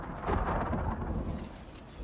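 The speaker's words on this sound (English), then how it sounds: "See these flash storms coming in pretty fast." A flash storm in the video game Icarus: a low, broad rumble of thunder rolls continuously and fairly loud throughout, steady with no sharp crack, and no voices.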